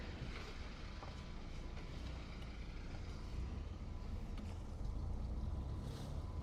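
A boat engine runs at about 1200 RPM, a steady, low and faint rumble with wind noise over it and no talk.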